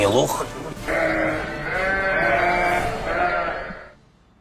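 Sheep bleat in a series of drawn-out, wavering cries, fairly close and moderately loud, before fading to quiet at the end.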